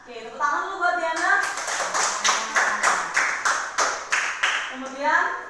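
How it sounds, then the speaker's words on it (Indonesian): A classroom of pupils claps in unison for a correct answer, about a dozen sharp rhythmic claps in quick succession, bracketed by a teacher's voice speaking before and after. "tepuk tangan dulu buat Diana"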